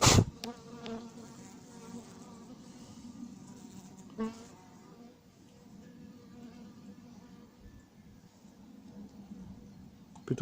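A dense, steady buzz of many honeybees swarming around a hive nearby during a colony split, droning continuously with occasional louder passes close by, and a voice talking over it.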